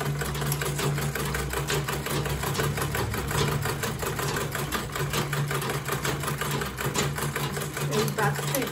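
A sewing machine runs steadily, stitching back and forth on a quilted tote bag, its fast even mechanical hum continuous and close throughout.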